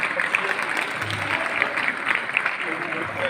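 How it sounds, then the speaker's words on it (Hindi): Steady applause from a crowd at a village function honouring a legislator in India, continuous dense clapping with voices mixed into it throughout. "काकर साहब तालियां बजती रही"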